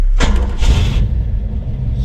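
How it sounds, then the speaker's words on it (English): A 1967 Ford Mustang Fastback engine cranks briefly and fires almost at once, settling into a loud, close rumbling idle. "Gonna get it started up, and this is one thing I've noticed with this engine, how quickly it fires up"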